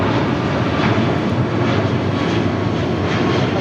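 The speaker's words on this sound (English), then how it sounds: "Next departure is American Airlines flight 1499 heading to Charlotte. It's a 777-200ER." An American Airlines Boeing 777-200ER departs LAX, its engines producing a loud, steady broadband jet roar that holds constant and close throughout, with no voices.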